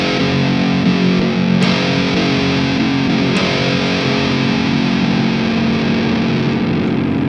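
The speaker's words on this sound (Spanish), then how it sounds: "nos vamos ahora a la distorsión o el overdrive." Electric guitar played through an 808-style overdrive with low gain, tone turned fully up and a touch of noise gate on a Mooer GE200 multi-effects unit, giving a steady, sustained, loud crunchy drive with two brief sharp attacks, no talking.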